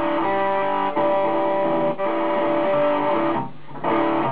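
Electric guitar played through the distortion setting of a Zoom G2.1u multi-effects unit, sustained overdriven chords ringing loud and steady with brief dips between strums, no voice over it.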